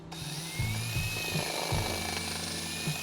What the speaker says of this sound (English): So what I'm doing right now is just making the hole just a little bigger